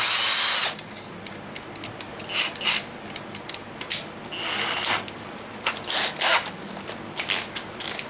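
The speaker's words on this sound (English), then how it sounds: "that sound, that's the clutch of my drill" A power drill's clutch ratchets in rapid, uneven bursts of clicking and grinding while driving a lock stud, starting and stopping several times at close range.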